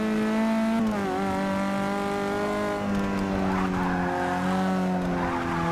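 Race car in Forza Motorsport 6 braking hard, its engine note sliding down in pitch as the tyres skid and squeal, then pulling away again; loud, close and continuous engine sound with no talking.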